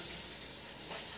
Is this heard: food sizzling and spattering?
yes